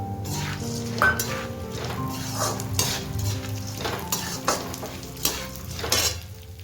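Almonds frying in ghee in a pan while being made into flaxseed laddoos, with a steady close sizzle and repeated metal spoon scrapes and clinks on the pan, and no talking.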